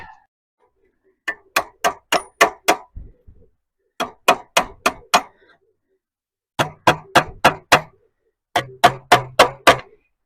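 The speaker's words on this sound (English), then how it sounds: "then you hammer it flat to lock it in, effectively shrinking your metal" Sharp metallic hammer blows on sheet metal being hammered flat, in quick groups of four to six, ringing strikes close by with brief silences between sets.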